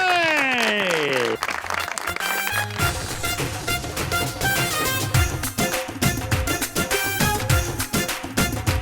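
Studio audience clapping as PMLN member of parliament Sheikh Rohail Asghar arrives on a TV talk show, steady applause under loud music from start to finish.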